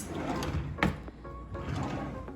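Kitchen drawer in a small apartment sliding open or shut, a soft rumbling slide with a brief thunk near the middle, fairly quiet and close.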